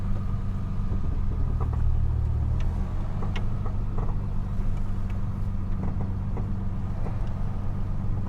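A 1961 Mercedes-Benz 220Sb W111 Heckflosse engine runs steadily close by as the car pulls away, a continuous mid-pitched idle-to-drive rumble with light clicks and knocks on top, no talking.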